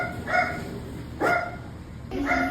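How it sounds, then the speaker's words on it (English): A toy poodle at the groomer barks three times in separate bursts, sharp and close, with no other sound between. "Never heard him bark so much."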